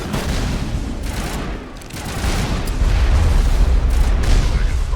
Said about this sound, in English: That way the guns start firing.